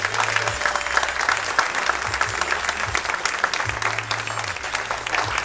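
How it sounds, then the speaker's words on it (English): Applause from an event audience honoring Primus Robinson at a Friends of the Port gathering, a steady dense clapping that fills the whole stretch at close range, with low hum underneath. "Give him a real nice round of applause."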